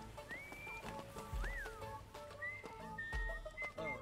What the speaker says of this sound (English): I kept hearing the whistling and didn't know what it was.